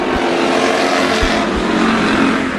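Race cars roaring down the back straightaway at Bakersfield Speedway, engines loud and continuous at full throttle, a dense sustained drone with no break.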